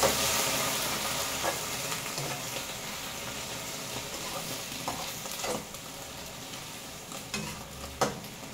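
Pak choy being stir-fried in a hot pan with a little water, a steady close sizzle with intermittent scraping and stirring clatter from the utensil.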